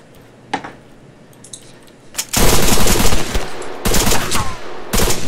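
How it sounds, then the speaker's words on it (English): Heavy automatic gunfire in the ARMA 3 video game: a few faint distant shots, then loud sustained bursts of rapid fire with short breaks between them, dense and close, with no one speaking. "More shooting."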